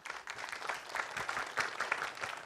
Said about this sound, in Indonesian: kita kasih tepuk tangan dulu untuk Aijal ya